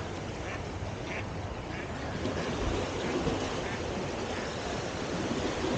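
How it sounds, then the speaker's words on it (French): Small waves lapping on the shore of Lake Garda by a campsite in October, a soft, continuous wash of water with faint recurring splashes, quiet and steady throughout. "c'est bizarre les vagues qui viennent là"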